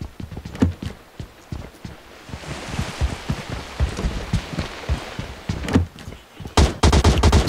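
Gunfire in the video game PUBG Mobile, with scattered sharp shots and rattling bursts over background noise, growing denser and louder toward the end.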